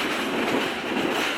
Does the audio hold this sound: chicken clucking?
no